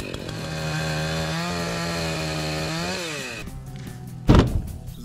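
A Stihl MS-362 chainsaw starts and runs outdoors in springtime Alaska, with a loud steady buzzing idle that dips as the engine drops off, then a sharp heavy thunk near the end.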